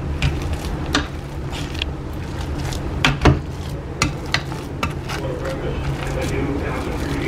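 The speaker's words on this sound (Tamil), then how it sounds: "இந்த காய்கறிகளை நல்லா குழைச்சி நம்ம இதில் நல்லா நம்ம குழைக்கணும்" Cooked vegetables for pav bhaji are mashed and mixed in a pot, giving close, irregular knocks and scrapes over a steady frying hiss, with a voice talking throughout.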